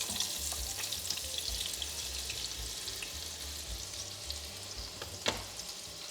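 Thin flour-and-water flatbreads filled with suluguni cheese fry in a pan just after flipping, giving a steady close sizzle with light crackle and a faint scrape of a utensil partway through.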